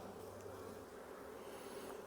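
Honey bees hum steadily from an opened beehive with swarming suspected, a continuous close buzzing drone with no talk.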